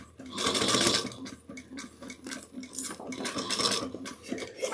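Sewing machine back stitching on and off along a 3/8-inch seam of a drawstring satchel bag, in short whirring bursts with pauses, close and fairly quiet.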